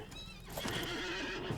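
A horse whinnies loudly and shakily at close range in the video game Lord of the Rings Online, a drawn-out neigh over faint clopping hooves.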